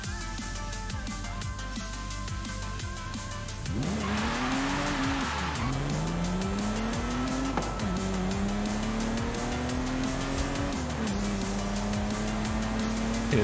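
Car from Forza Horizon 5, a modern reimagining of the Jaguar E-Type, driving hard with an engine rising and falling through repeated gear changes while tires squeal loudly in bursts, steady and close with no talk.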